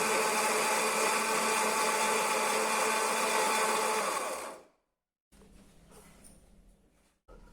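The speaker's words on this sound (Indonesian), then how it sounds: "kita blender sampai benar-benar halus dan lembut" A blender grinds sugar and eggs loudly and steadily for several seconds, then shuts off abruptly, followed by quieter clattering and handling noises.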